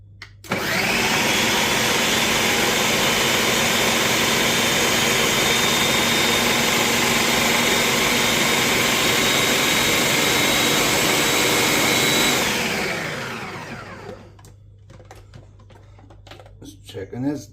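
A kitchen blender liquidizing fresh tomatoes for tomato sauce roars loudly and steadily for about twelve seconds, then winds down as the motor slows, followed by a few faint clinks.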